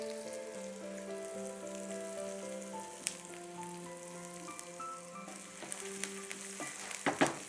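Onions frying with curry leaves, ginger and garlic, a steady close sizzle with occasional spoon taps and a louder stirring burst near the end, no talking, with a tonal hum from the surroundings in the background.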